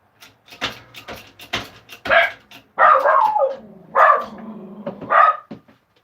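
A tiny dog named Mac barks repeatedly indoors, several loud sharp barks in irregular bursts, some drawn out and yappy, with a little background sound between them.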